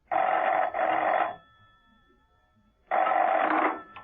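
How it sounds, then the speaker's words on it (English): A telephone rings in two loud, close bursts with a gap between them, a classic bell-type ring heard alone. "Steed rang Mrs. Peel at her apartment."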